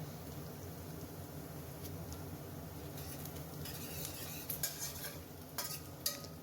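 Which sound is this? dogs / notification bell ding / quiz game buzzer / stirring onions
stirring onions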